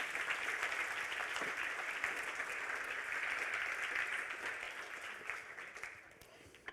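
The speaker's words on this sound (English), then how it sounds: "Now you're going to applaud because I'm going to drink some water" An audience at a React programming talk breaks into sustained applause, a soft, dense patter of many hands that gradually thins and fades, with faint voices mixed in.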